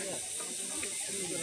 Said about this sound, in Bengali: সমুদ্রের ঝিঝি পোকার ডাক